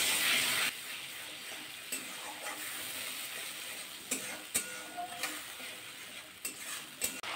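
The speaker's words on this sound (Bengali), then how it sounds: "এবার মশলাটা ভালোভাবে একটু কষিয়ে নেব।" A spice masala with turmeric, salt, a little sugar and a splash of water is sautéed and stirred in a pan for a bitter gourd and okra dish, giving a steady close sizzle broken by scraping spatula strokes against the pan.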